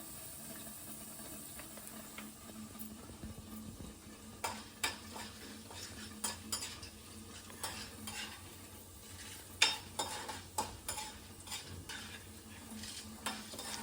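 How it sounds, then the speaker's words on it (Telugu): Urad dal and chana dal roast in hot oil for a tempering, sizzling softly and steadily while a spoon scrapes and clinks against the pan in irregular strokes. "ఇవన్నీ వేగాల, కొంచెం రోస్ట్ వేగాలి"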